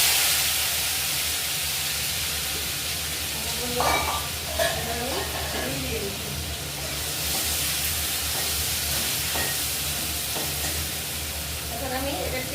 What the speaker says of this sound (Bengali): এখন আমি এটা পেঁয়াজটা কষাতে থাকবো